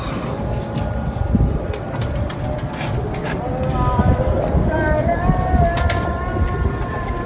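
Breeder pigeons in a loft coo softly, with low rolling calls woven through a busy, noisy background where people seem to be talking.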